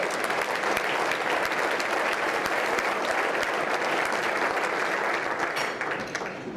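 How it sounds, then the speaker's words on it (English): Audience in a room applauds the Torrance city manager during the mayor's State of the City address, a steady, full wash of clapping that holds for the whole stretch and eases slightly at the end. "Let's give him a round of applause for that."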